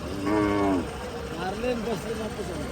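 Low, drawn-out moos from a nearby bull at a cattle market, two calls with a pause between, over steady outdoor background noise and faint voices.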